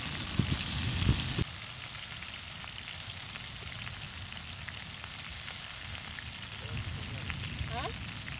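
Oxtail frying in a very hot pot outdoors, where garlic has already burned, gives a steady close sizzle and crackle, louder at first with some clatter, with a voice talking faintly at moments.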